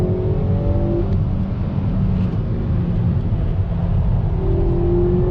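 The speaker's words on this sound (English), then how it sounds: "On throttle, wait for that boost to kick in, and we are off." A 2020 Kia Forte GT pulls hard out of a corner on a track, its turbocharged engine droning loud and steady with rising pitch through smooth shifts, heard from inside the cabin with constant road and wind roar.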